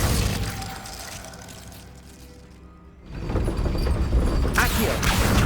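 Glacius freezing spell cast in Hogwarts Legacy: a creaking, crackling magical burst that fades to near silence, then a loud icy shattering rush returns and holds to the end.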